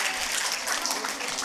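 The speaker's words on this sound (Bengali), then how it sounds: "খুব জোরে একটা করতালি" Audience clapping at a lifetime achievement award ceremony honouring Swagatalakshmi Dasgupta, a short burst of dense, steady applause from a crowd in a hall.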